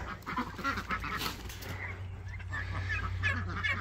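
Backyard ducks honk and quack while being fed a batch of fresh greens, a steady low chatter of several birds at moderate distance, fairly quiet, with some background noise and no clear speech.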